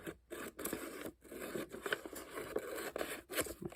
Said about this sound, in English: I'm going to cut it a little bit long